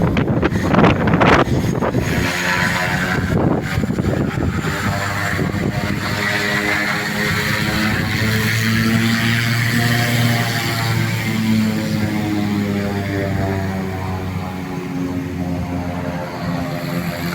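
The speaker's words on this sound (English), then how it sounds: "So there's Miss Tiffany's plane. Ready to take off" Small propeller plane at a remote community airstrip in Guyana's Amazon interior, its engine droning steadily and rising in pitch as it prepares to take off, heavy wind buffeting the microphone throughout and a brief voice early on.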